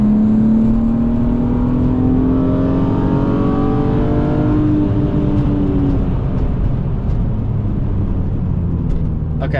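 A BMW E36 M3 race car with 260,000 miles on a rainy track, its engine droning loudly from inside the cabin, with revs rising and then falling as it slows, over constant road and spray noise.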